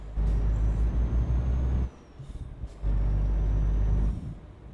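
A heavy truck engine in Euro Truck Simulator 2 roars loudly in two long sustained pushes with a deep low rumble, separated by a brief quieter pause, with no talking.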